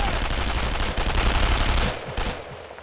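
Dense, loud automatic gunfire rattles continuously in Brothers in Arms: Road to Hill 30, a World War II shooter firefight against German paratroopers, easing slightly toward the end with scattered bursts.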